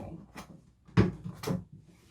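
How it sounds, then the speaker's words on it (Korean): The lid of a Harley-Davidson Road Glide saddlebag opens and then shuts twice, three sharp plastic knocks and thumps close by, spaced about half a second apart, with a little quiet handling in between. "뚜껑 열고 닫고 닫고"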